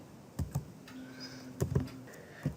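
Keystrokes on a computer keyboard as code is typed in a BASIC-256 program, a few separate taps and short clusters of clicks, close and fairly quiet against a faint hum.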